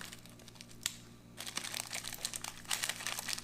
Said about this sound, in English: Might have to cut this one open.